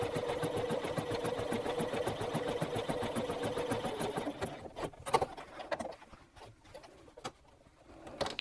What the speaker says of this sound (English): using a long and wide zigzag stitch, and I'm just going to baste within the seam allowance at the top and